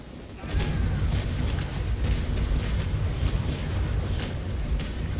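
Cannon broadside in the naval combat game Naval Action, fired as a rapid rolling barrage: a dense, continuous stream of heavy booms and rumbling blasts that merge into one sustained roar for several seconds.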